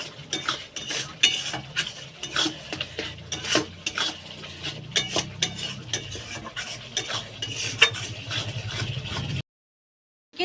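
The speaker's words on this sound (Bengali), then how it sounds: "অল্প একটু জল দিয়ে আবার ভালো করে মশলাটা কষিয়ে নেব" A spoon scrapes and stirs masala spice paste in a pan in a steady, repeated rhythm of clinks and scrapes over a soft sizzle of frying, close by, until a brief silence near the end.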